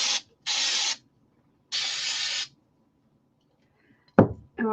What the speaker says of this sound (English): I'm going to spray some on the towel.